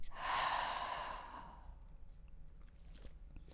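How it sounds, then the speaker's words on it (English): A slow, audible breath drawn in and let out during a guided reflection on forgiveness, close and soft, with a long airy exhale fading into quiet room tone. "Breathe in and breathe out."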